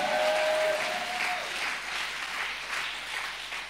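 A church congregation applauding together to acclaim Jesus, a sustained, even wash of clapping from many hands with a brief whistle-like tone near the start.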